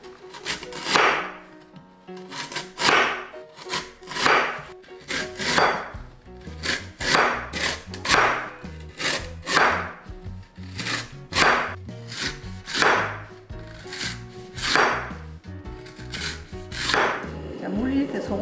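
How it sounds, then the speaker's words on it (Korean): A knife slices a 330 g lotus root into thin rounds for a salad, each cut landing as a crisp board knock in a steady, unhurried rhythm of roughly a dozen strokes, close and clear. "샐러드 물건 좀 얇게 썰어야 돼요."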